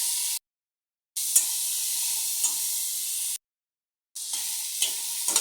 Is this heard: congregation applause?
no